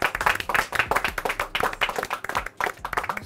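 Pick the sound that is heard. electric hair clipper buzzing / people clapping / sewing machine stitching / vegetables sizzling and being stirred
people clapping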